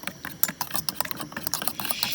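A dessert mixture for halka tatlısi, a fried ring pastry, is whisked briskly in a bowl, giving a steady, rapid rattling and scraping close by with no talk.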